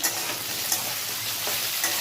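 Spice paste with green chillies frying in a pan for a gathi kochu (taro) curry, giving a close, steady sizzle with faint stirring.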